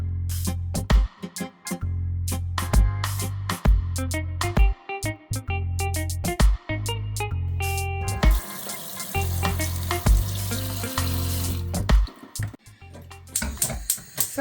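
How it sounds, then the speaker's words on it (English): Water rushing from a tap as salted beef is rinsed, drained and refilled to remove salt: loud, continuous running and splashing, broken by short pauses and bursts as the water is poured off and caught again. "throw this water off and catch some fresh water to get rid of the salt."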